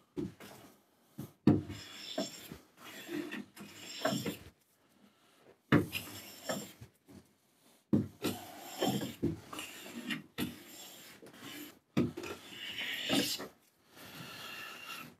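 A hand plane shaves a wooden workpiece in a series of close, rasping strokes, each a broad scraping burst separated by short pauses, roughly a dozen passes in all.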